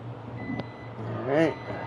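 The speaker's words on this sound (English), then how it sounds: "Coffee's beeping." A coffee maker gives a single short electronic beep, quiet and close, over a low background hum, with a faint click just before it.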